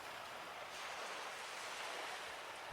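Ocean waves wash steadily onto a seaside village shore at night, a soft continuous surf hiss heard faintly from a distance with no other sounds.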